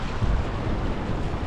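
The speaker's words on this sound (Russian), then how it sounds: "Ветер сильный." Steady, blustery wind roars across the microphone on the Crimean sea coast while fishing, with low rumbling gusts and a broad hiss.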